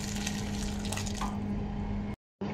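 Half a liter of hot water poured into a cooking pot of pork pata with baked beans, a steady, close rushing splash that runs on before cutting off briefly near the end and resuming.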